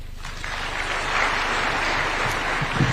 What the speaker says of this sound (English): Another round of applause for such wonderful testimonials.